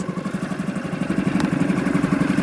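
A Suzuki 6HP four-stroke outboard engine idles steadily right after a kick start, with an even, rapid mechanical chugging pulse held close and loud throughout, with no voices.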